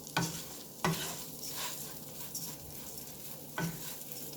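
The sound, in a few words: ground beef and rice sizzling in a pan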